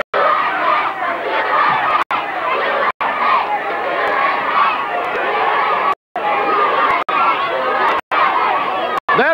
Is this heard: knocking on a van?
no